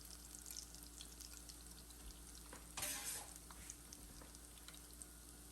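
Koose bean fritters fry in hot oil with a steady, quiet sizzle and crackle, and a brief louder hiss of spattering midway through.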